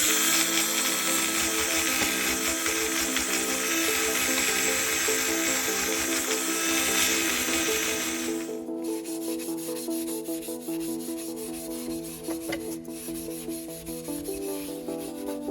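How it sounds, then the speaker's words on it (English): A wire brush spinning on a drill scrubs the bumper of an Audi B7 RS4 during a respray rebuild, a steady close grinding rasp that drops to a lighter, scratchier buzz partway through. "we're going to use this wire brush on this drill just to clean that bit off"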